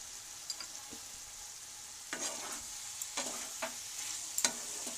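Cauliflower-stalk vegetables are stirred in a pan after cumin powder goes in. A soft sizzle runs throughout, broken by a few sharp spatula scrapes and knocks against the pan, faint and close.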